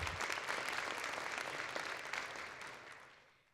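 An audience at an honoring ceremony for the Alaska Native Tribal Health Consortium claps in a dense, steady round of applause that gradually fades away, with no talking.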